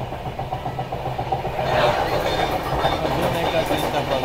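A train runs along the Konkan Railway in monsoon rain, giving a steady rumbling rush of wheels and carriage noise that swells a little partway through, with faint voices underneath.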